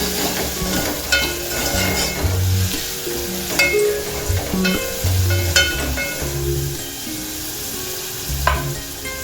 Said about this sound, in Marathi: तर कांदा चांगला भाजलाय तेलामध्ये